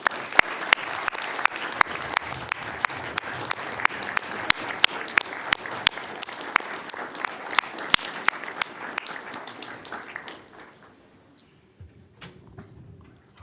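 An audience at a fire protection district meeting bursts into applause after an award is presented. The clapping is dense and sustained for about ten seconds, then fades into a quiet room with a few scattered claps.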